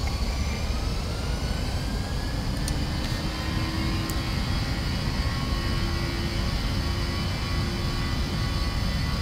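Boeing 737NGX jet engines spooling up toward takeoff thrust in a flight simulator, a steady loud broadband roar with a rising whine, continuous and close, no talk.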